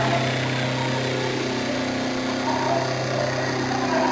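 An electric motor driven by a DC-AC inverter gives off a steady, loud tonal hum with a broad mechanical whine. The drone holds fairly even throughout, with no other sounds over it.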